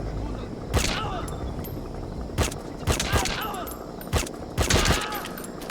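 Suppressed gunfire from Metal Gear Solid V: The Phantom Pain, several muffled shots in separate bursts over a steady game backdrop, each a sharp thud with a brief mechanical tail, with a voice speaking faintly in the background.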